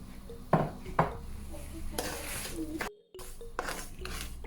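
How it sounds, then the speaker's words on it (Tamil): Semolina being roasted in a pan, with a spoon scraping and clinking against the metal in repeated strokes over a steady background hiss, close by and moderate in level, briefly dropping out. "ரவையை நல்லா வறுத்தெடுக்கணும்"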